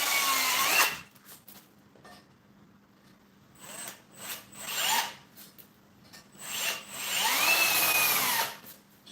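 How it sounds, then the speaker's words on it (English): A power drill whirs in several bursts, pitch rising and falling as it bites into steel box-section iron, with quiet pauses between runs. "I can direct the hole by angling the drill"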